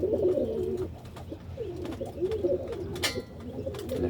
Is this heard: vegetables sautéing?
no